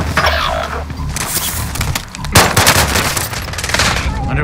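Heavy automatic gunfire in the Warzone battle royale on Rebirth Island, loud, sustained bursts of rapid shots with a brief lull midway, then another intense volley with scattered cracks.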